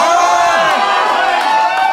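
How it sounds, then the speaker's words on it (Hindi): Audience at a Hindi comedy show breaks into loud, sustained clapping and cheering, a dense steady roar of hands and whoops with excited voices mixed through it. "बहुत तालियां"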